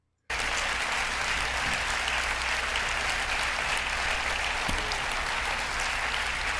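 Audience applause at a televangelist's sermon, a dense, steady wash of many hands clapping that starts abruptly and continues evenly throughout, loud and alone.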